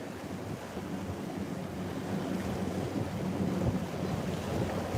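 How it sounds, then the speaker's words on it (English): Wind on Lake Lanier rumbles and blasts across the microphone in a continuous low roar, steady and fairly loud, with no voices. "that wind may be a little too much for you guys that are watching"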